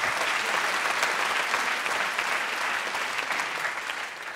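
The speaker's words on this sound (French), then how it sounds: "Merci d'applaudir, vraiment" Dense, sustained applause from a comedy show audience fills the stretch, a close, even wash of many hands clapping that eases slightly toward the end.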